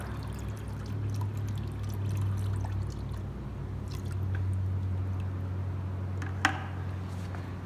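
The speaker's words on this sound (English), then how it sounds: "So let's cap this. And we'll let this drain out." Fluid drains steadily out of a Cannondale X440S bicycle suspension fork during a magnetic strainer and autobleed kit install. A continuous close pouring and trickling runs throughout, with one small sharp click near the end.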